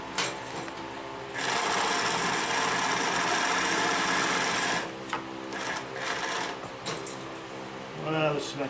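A Consew 227R-2 cylinder arm industrial sewing machine stitches over thick seams, a fast steady mechanical whir that runs for a few seconds, stops, then resumes in shorter bursts, with brief speech near the end.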